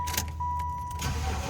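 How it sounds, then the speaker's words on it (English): A 1995 Chevrolet Impala SS engine starts up close by, a steady chime tone running under brief cranking bursts before the motor catches and settles into a rumbling idle. "Let's go ahead and fire this up."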